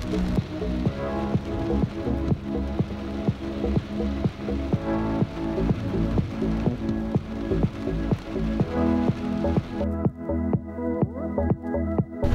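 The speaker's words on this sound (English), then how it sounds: "It's just starting to rain around my housing area" Steady rain patters on a surface nearby, with repeated drips and taps in an uneven rhythm and no voices.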